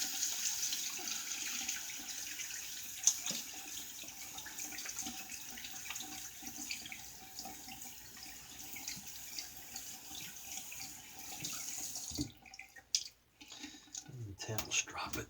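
Water runs steadily from a tap while a shaving brush is rinsed under it, a continuous moderate splash lasting most of the time, then it cuts off near the end, followed by a few faint handling noises.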